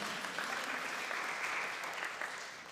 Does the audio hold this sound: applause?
yes